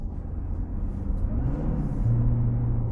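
A deep, steady Corvette Z06 C7 engine rumble fills the cabin, growing slightly louder and heavier toward the end as the car drives on.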